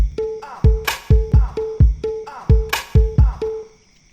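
A punchy electronic drum loop repeats steadily: booming kicks with a pitched tom-like tone, sharp snare-like hits, and a crash accent near the middle and end.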